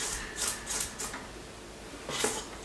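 A spatula scraping flour mixture from the sides of a mixing bowl for a lemon velvet cake, several soft, rhythmic scraping strokes close by, alone without talking.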